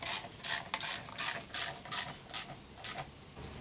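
Ratchet wrench tightening engine bolts on a garage floor, heard as a rapid series of close, loud pawl clicks in repeated bursts of strokes with short pauses between them.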